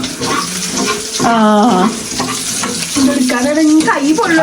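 Chicken curry ingredients sauté in a pan, with loud sizzling and stirring close at hand and a few squeaky tonal scrapes rising and falling through the frying.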